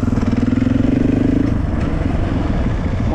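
A motorcycle engine runs with a steady, buzzing, throbbing tone while riding, close and loud, the pitch holding then fading into rougher rumble.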